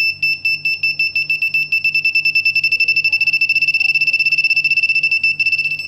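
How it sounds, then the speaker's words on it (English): A high electronic beep from an Arduino ultrasonic sensor repeats steadily, its pulses speeding up until they nearly blur into a continuous tone, with no voices. "As I bring my hand closer, the beep's frequency will increase."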